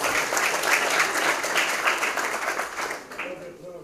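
Audience applause fills a lecture hall, a dense wash of many hands clapping that stays steady and then fades toward the end.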